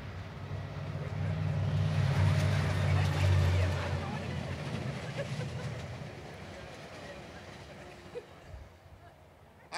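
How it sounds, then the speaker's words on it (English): A train rumbles past outdoors during a senior center celebration, a loud sustained roar with clattering that swells and then slowly fades, heard alongside a public-address voice. "I think Ed Lee arranges for the train to interrupt me for some reason."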